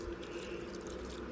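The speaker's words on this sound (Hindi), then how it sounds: "अच्छा सही चावलें च अस पानी सट दिते" Water being poured onto rice in a cooking pot in a home kitchen, a low, steady pouring rush that runs faintly and continuously through the short stretch.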